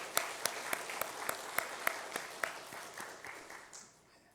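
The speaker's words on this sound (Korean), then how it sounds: "우리 한번 박수 한번 쳐드리겠습니다." A church congregation claps together during a Sunday service, a ragged round of applause with distinct rhythmic hand claps that gradually thins and fades out, moderately quiet and a little distant.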